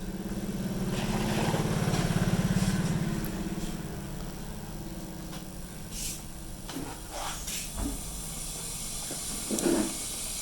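Rubbing alcohol boils in a kettle with a steady broadband hiss and a low rumble, strongest early and then settling. Small pops and crackles are scattered through it.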